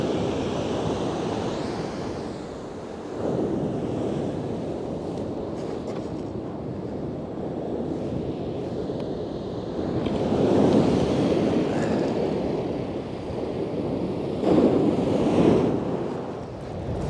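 Rough sea surf crashing and rolling onto a beach during a fishing trip, a continuous loud wash with swells peaking every few seconds, mixed with heavy wind buffeting the microphone; no talking.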